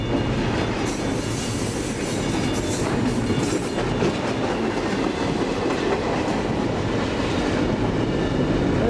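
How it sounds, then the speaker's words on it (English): A train passing on tracks in Muncie, loud and close, with continuous rumbling and rhythmic clickety-clack of wheels and occasional faint squeal, no talk. "Hey, quite a train."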